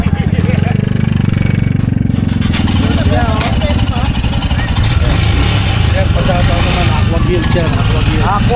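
A Royal Enfield Himalayan Scrambler motorcycle engine runs close and loud, idling in neutral with a steady throb, with people talking over it.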